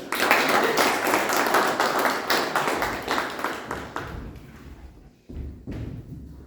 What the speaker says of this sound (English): with huge round of applause, please welcome our presiding officer